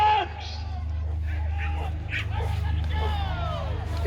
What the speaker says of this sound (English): Hold the dogs!